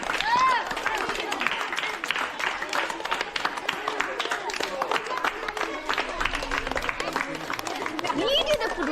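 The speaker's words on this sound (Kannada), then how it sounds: "ಚಪ್ಪಾಳೆ ಕೊಡಿ" Students and spectators clap at a government school sports day, a dense stretch of scattered, rapid hand claps mixed with chatter and children's voices throughout.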